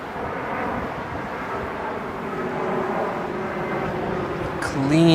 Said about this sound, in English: the Lufthansa Dreamliner.